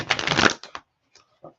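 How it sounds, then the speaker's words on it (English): Tarot cards being shuffled up close, a loud riffling burst followed by a few short snaps and taps as the deck settles. "One more good shuffle."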